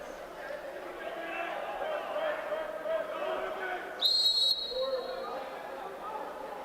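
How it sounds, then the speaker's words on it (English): A referee's whistle gives one sharp, loud blast during a Navy versus Air Force water polo match, rising over a steady crowd murmur and commentary. "And that's what you hear a lot of those whistles."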